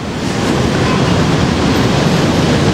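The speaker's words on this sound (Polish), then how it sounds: "A teraz tutaj nad nami po prawej stronie jest stacja BDS, czyli tego metra naziemnego." At a station of the elevated BTS Skytrain in Bangkok, a loud continuous rumbling roar of rail traffic and city noise carries steadily throughout without a break.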